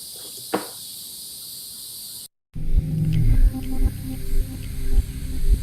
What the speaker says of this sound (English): So I have this insect sound here, this cicada sound,